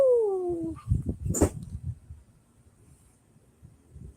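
A dog gives a short rising-and-falling howl that fades, followed by a few soft, close whimpers and yips against a quiet background.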